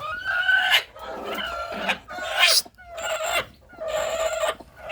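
Free-range hens, one a broody hen pushed off her nest, cluck in short bursts with clear gaps, close and fairly loud, with no talking over them.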